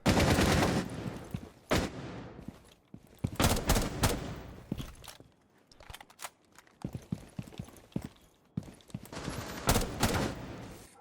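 Video game gunfire fired through a floor, rapid bursts of shots in clustered volleys separated by short pauses, fairly close and moderately loud.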